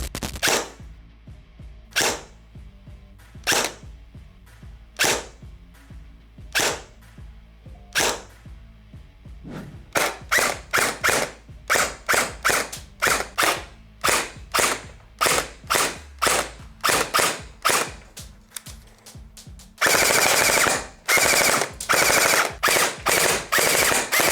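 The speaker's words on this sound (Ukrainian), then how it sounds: "А тепер давайте потестуємо та постріляємо" Rapid mechanical shots from a Heckler & Koch HK416 A5 Umarex airsoft rifle: single spaced pops at first, then quicker bursts, ending in a loud sustained stream of fire.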